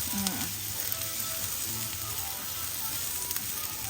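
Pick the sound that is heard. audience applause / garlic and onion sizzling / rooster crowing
garlic and onion sizzling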